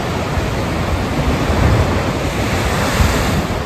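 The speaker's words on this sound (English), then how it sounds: "The waves come crashing round the corner" Ocean surf crashes continuously onto the shore at Muttonbird Island on the Great Ocean Road, a dense, steady roar with wind buffeting the microphone and no voices.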